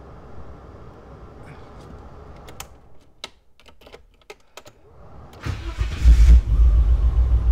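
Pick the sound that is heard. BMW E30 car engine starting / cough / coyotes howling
BMW E30 car engine starting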